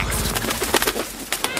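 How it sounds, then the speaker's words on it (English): A seagull call from the Minecraft video game, several short bird-like cries repeating over steady game ambience, fairly close and moderately loud. "What is that, a pelican? I think it's a seagull."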